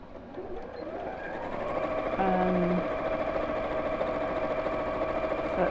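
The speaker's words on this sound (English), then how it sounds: "Let's sew down here." A sewing machine stitches a straight seam down the side of a box bag, running as a steady close mechanical whir that continues throughout with a brief quieter stretch near the start.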